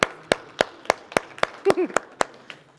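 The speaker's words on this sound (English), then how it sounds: "let's give them a round of applause" A small group claps at a college and career event in sharp, evenly spaced claps about three per second. A brief voice cheers partway through.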